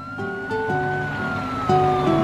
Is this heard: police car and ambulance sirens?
yes